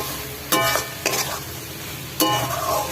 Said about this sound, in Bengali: খুব সামান্য পরিমাণে একটু জল দেবো, দিয়ে না এটাকে ভালো করে একটু কষাবো